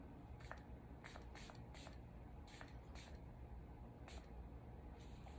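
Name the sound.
fine mist spray from a P Louise bottle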